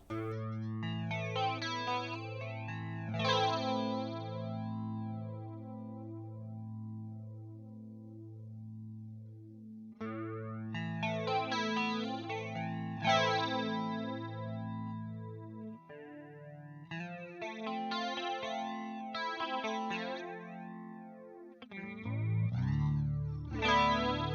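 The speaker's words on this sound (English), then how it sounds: "I'm going to turn up the depth so you can really get like an aggressive flanger sound" Electric guitar chords and notes through a Quad Cortex flanger at high depth, drenched in a deep, sweeping effect, the tone whooshing up and down in pronounced jet-like swirls.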